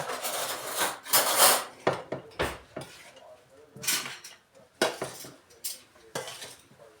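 Metal spoon clinking and scraping against a dish in a home kitchen, a series of bright, close clatters and taps in uneven bursts with short quiet gaps between them.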